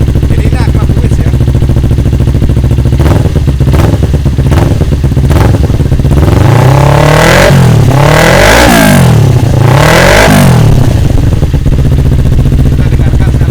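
A motorcycle with an Akrapovic exhaust idles loudly up close, then revs repeatedly, the exhaust note rising and falling in sharp, aggressive bursts.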